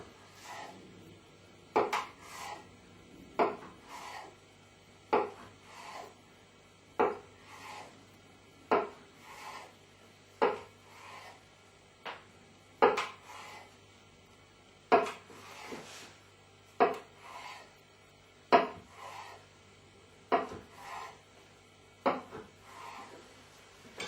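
A knife saws through rolled cinnamon roll dough, slicing it into rounds: a long, regular series of close rasping strokes with short pauses between, alone without speech.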